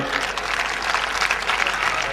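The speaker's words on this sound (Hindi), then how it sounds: "आपकी तालियां बताती हैं कि आप उन्हें कितना प्रेम करते हैं।" Audience clapping at a Hindi kavi sammelan poetry recital, a dense, steady wash of many hands applauding for the whole stretch with no break, fairly loud and close.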